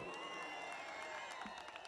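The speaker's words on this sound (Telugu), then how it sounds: "చప్పట్లు కొట్టండి" An audience at a film pre-release event applauds with a dense, steady wash of clapping and crowd noise, heard faint and distant throughout the brief moment.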